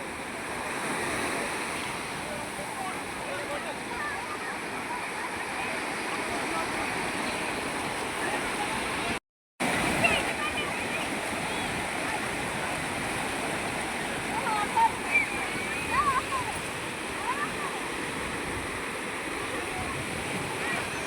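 Continuous rushing roar of surf breaking on the beach at Murudeshwar, loud and steady, with a brief dropout midway and faint voices of people bathing in the sea underneath.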